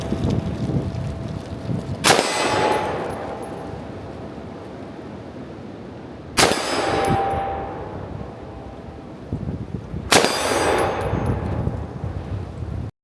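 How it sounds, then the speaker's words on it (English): An IWI Tavor bullpup rifle fires three loud, sharp gunshots spaced several seconds apart, each with a ringing outdoor decay, over a steady background noise. "for our session summary with the Tavor, we had 5 shots"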